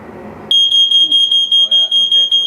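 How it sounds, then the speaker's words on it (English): A household smoke alarm under test gives a loud, piercing electronic tone that starts abruptly after a moment of quiet talk and pulses steadily for several seconds up close. "So fire alarm here. Okay, yeah. Test that."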